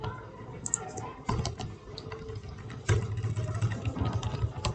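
Computer keyboard typing while coding a multi-language typing tool in JavaScript, a steady patter of close keystrokes over a low engine-like hum, with no talking.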